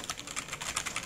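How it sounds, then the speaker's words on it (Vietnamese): Quick clacking keystrokes on the stock keycaps of an EK387 mechanical keyboard, a dense, close and fairly quiet burst of clicks lasting about a second. "Ok, chúng hãy thử nghe tiếng gõ trên keycap stock của EK387."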